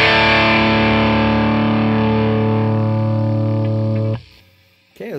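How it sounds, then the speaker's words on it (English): Tube guitar amplifier pushed through an attenuator, giving a loud, sustained distorted chord that rings steadily for about four seconds, then cuts off abruptly into near silence before a brief soft noise at the end. "this is the point where the amp starts, to me, starts to get a little flubby and the distortion isn't quite as defined"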